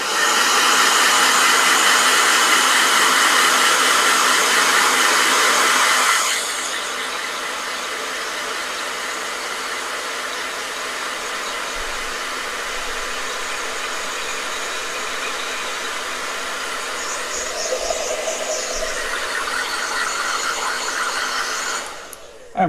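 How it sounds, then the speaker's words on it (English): A blow dryer whirs loudly over a watercolor painting for several seconds, drops to a quieter steady hum, then rises again near the end. "Blow dryer."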